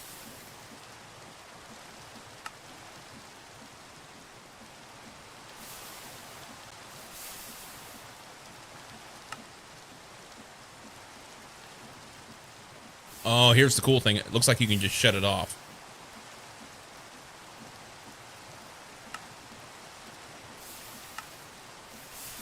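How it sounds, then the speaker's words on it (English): Steady soft rain hiss from a Minecraft game world, continuous at low level beneath someone talking, with a brief louder burst of other game noise partway through. "I just get tired of the rain. It's noisy"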